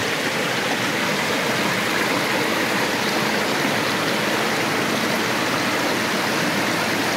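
A shallow outdoor stream flows continuously, making a dense, even rushing and babbling wash that fills the whole stretch with no voices over it.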